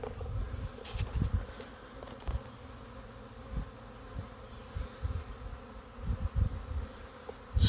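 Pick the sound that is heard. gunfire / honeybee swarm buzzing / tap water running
honeybee swarm buzzing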